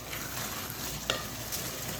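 Vegetables for chicken fried rice cook in a hot pan, giving a steady, fairly quiet sizzle with a light stir or clink of a utensil, no talking.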